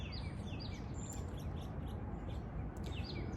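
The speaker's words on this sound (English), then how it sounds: "The birds are so beautiful." Birds chirp and tweet continuously over a steady, loud outdoor wash of background noise, with many short high calls repeating throughout and no voices.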